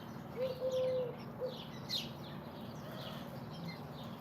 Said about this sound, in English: these birds are here on the ceiling